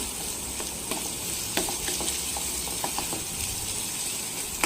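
Small shallots sautéing in a pan of oil for a spicy chicken gravy, a steady close sizzle with scattered soft crackles and occasional clicks of a spoon stirring.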